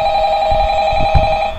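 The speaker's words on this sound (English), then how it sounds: "Tapos yung phone call." An old telephone rings in the horror video game Five Nights at Freddy's, a loud steady tonal ring held throughout the short moment with faint low thumps beneath.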